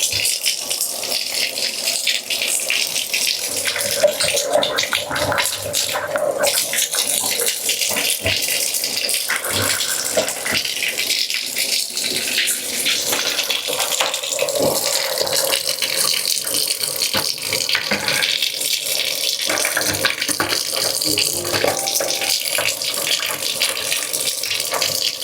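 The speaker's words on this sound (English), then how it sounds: "I like just letting the water flow a little bit, just like that. Just get it down the drain." Tap water runs steadily in a bathtub while being flushed down a drain being unclogged, a continuous close, fairly loud gushing hiss with faint rattling, no talk over it.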